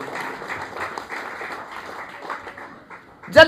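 A church congregation claps together in a moderate, scattered patter that rolls on for a few seconds before fading, with a brief louder burst at the very end.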